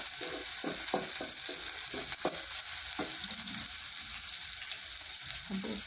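Onion sizzles in a pan with a steady hiss, while a utensil scrapes and knocks against the pan in a burst of quick strokes, then a few scattered ones, with no talk.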